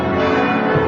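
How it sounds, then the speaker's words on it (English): Bells ring furiously at dawn in a dense, sustained wash of overlapping clangs and long ringing tones, loud and continuous. "dawn breaks to the furious ringing of bells."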